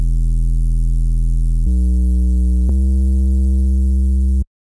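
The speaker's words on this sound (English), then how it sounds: "So if we add overdrive and we boost the drive" Synth noise patch in Phase Plant run through overdrive with the drive pushed up: a loud, buzzing distorted tone with a heavy sub underneath, shifting pitch twice before cutting off abruptly.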